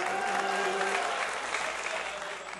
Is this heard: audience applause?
yes